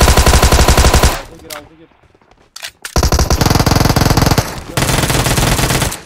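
Rapid automatic gunfire in PUBG Mobile, loud and close, bursts in before and after a short lull, with a voice speaking briefly over it.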